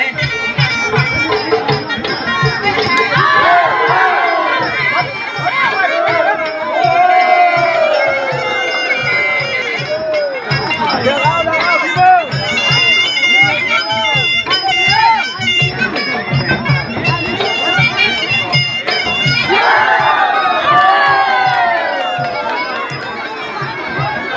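Loud crowd cheering and shouting fills a Muay Thai boxing match in Isan, Thailand, a sustained roar with rising bursts of excited yelling throughout, close and dense.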